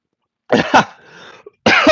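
Two sharp coughs close to the mic, then a brief pause and another harsh cough burst, with a short breathy rasp between them.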